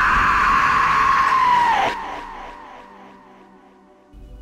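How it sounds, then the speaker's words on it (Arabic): A drawn-out, anguished scream from a corpse in a spoken Arabic horror tale, loud and sustained before it bends downward and cuts off, leaving a fading reverberant tail and low rumble. "صرخة سمعتها طلع من جثة من الجثث."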